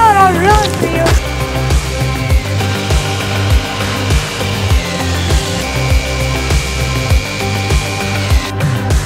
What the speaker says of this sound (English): You guys need me to drill it, I'll drill it for you.